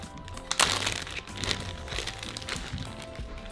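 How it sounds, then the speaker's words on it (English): Roasted, sweated green chiles being peeled by hand: close, crackly crinkling and soft tearing of the papery skin, dense and continuous with a few sharper crunches. "now we are ready to peel them"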